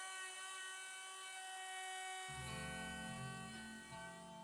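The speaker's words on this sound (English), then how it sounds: "Then I flipped it over and used a 1/4 inch roundover bit on the top." A router with a quarter-inch roundover bit spinning up and cutting the top edge of a wooden coffee table in a garage, a steady high whine that deepens into a louder cutting drone partway through.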